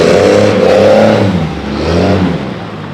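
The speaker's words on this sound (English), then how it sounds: "if you're flooring it, it's way louder" A truck engine revs up hard and loud under full throttle, then eases off and rises again in a second, smaller surge.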